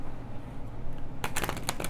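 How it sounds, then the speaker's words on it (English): A deck of tarot cards is shuffled in a quick flurry of crisp riffling snaps near the end, following a stretch of low room hum, close and fairly soft with no talking. "Let's do another quick little shuffle."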